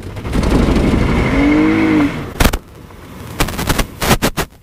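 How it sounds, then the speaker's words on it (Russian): Toyota Camry 3.5 engine at full throttle, a rising droning rev for about two seconds followed by a string of sharp, loud cracks and pops, with no talking. "когда ты нажимаешь на автомобиле газ в пол"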